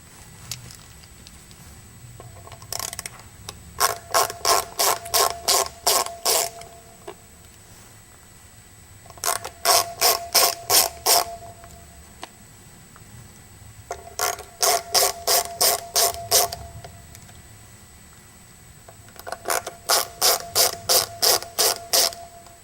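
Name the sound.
removing Phillips head screws from a guitar back plate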